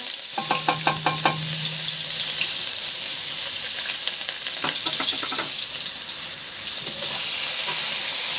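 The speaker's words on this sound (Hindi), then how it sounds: "प्याज को बिल्कुल फ्राई कर लेना है, ब्राउन कलर का कर लेना है" Onions fry in very hot ghee until brown for an egg and potato curry, making a loud, continuous sizzle with stirring scrapes and a brief low hum near the start, and no voices.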